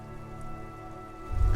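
Rain falling on a white and blue police motor carriage in Disco Elysium, a soft steady patter over a low hum, growing into a louder rumble at the very end.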